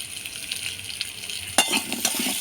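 Potatoes and carrots fry in a pan with salt and turmeric, a soft steady sizzle near at hand, punctuated by a sharp metallic clink of a utensil against the pan and a few following scrapes.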